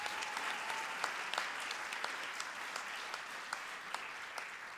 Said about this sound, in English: we should all give a round of applause to everyone who put in their effort and time into making this Rangmanch a